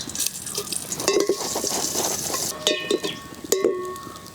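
Curry leaves sizzle in hot tempering oil for a pepper rasam, a soft crackling hiss broken by a few sharp metallic clinks of a spoon against the pan.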